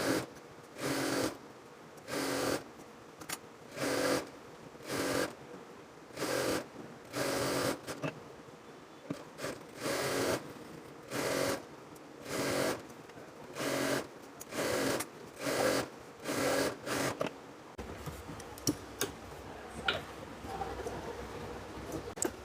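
Short rhythmic bursts of a sewing machine top-stitching the side seams of ladies' pants, repeating in regular start-stop pulses, then fading into quieter handling noise.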